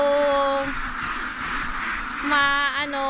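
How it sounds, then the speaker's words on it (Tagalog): An older duck quacks near and loud in a farmyard, one drawn-out nasal call, a short pause, then a quick burst of harsh quacks. "Nasa edad na po tong itik natin."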